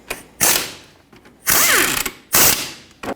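A hand ratchet snugs up bolts on the 2.4L engine of a 1997-2006 Jeep Wrangler, three loud close bursts of rapid clicking separated by short pauses.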